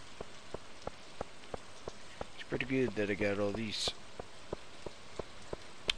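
Rain falls in the Stardew Valley farming game as a steady soft hiss dotted with regular raindrop ticks, while someone speaks briefly over it in the middle.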